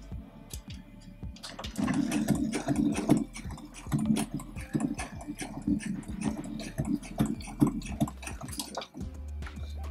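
A sewing machine stitches a sleeve top fitted over the machine arm, starting slow with a rapid mechanical ticking and whirring hum that runs in stop-start bursts.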